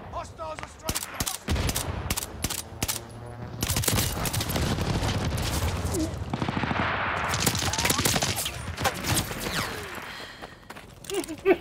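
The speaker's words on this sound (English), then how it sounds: "Hostiles are strafing us!" Rapid bursts of machine-gun fire from enemy aircraft strafing in the game Call of Duty: Vanguard, loud and close, with repeated staccato volleys and a booming, chaotic battle din; some voices are mixed in.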